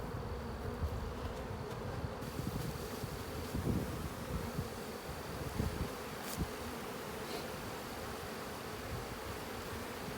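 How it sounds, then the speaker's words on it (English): A swarm of bees at an airport fills the air with a dense, continuous buzzing drone, steady and enveloping, with occasional louder passes of individual bees nearby. "Nice little swarm, what do you think?"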